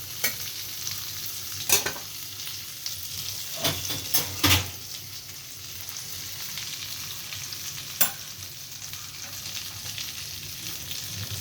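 Teasel gourd, potato and beans fry in a home kitchen pan with a steady low sizzle, broken by a few sharp close scrapes and clinks from stirring, then settling back into a quiet hiss.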